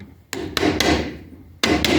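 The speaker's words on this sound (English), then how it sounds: "put it inside the groove. Now, you might want to just lightly tap it with the hammer just to get it started" A hammer lightly taps fret wire into a wooden guitar fretboard groove: five sharp, close knocks in a loose rhythm, each with a short ringing tail, and no voices.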